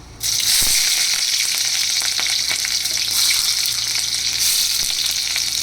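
Chopped onion hits hot oil tempered with cinnamon for a chicken stew, bursting into a loud, close, continuous sizzle that holds steady with faint stirring clicks and no talking.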